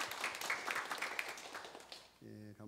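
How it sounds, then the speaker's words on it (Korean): A Korean church congregation claps to encourage two children during a Sunday service, giving a brief, fairly faint burst of applause that fades out before a voice begins speaking. "우리 시영이 지우 우리 박수로 한번 격려하겠습니다"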